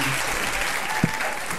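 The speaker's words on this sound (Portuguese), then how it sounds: "Auditório de pé, aplaudindo mais uma vez, Jota." A standing studio audience at a Brazilian TV variety show applauds, a dense, steady wash of clapping heard close and loud throughout.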